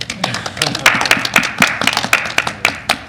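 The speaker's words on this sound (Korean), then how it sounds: "박수." A small church group meeting breaks into a few seconds of close, crisp hand clapping from several people, with the claps irregular and overlapping.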